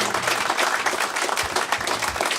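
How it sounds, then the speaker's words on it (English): Small group in a radio studio applauding, dense steady clapping filling the whole moment, close and fairly loud with no talking over it. "A little round of applause for that."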